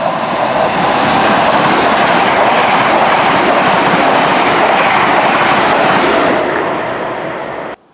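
ScotRail express train on the Croy Line near Lenzie, a loud steady roar of wheels and rushing air with clickety-clack rhythm, fading slightly and cutting off at the end.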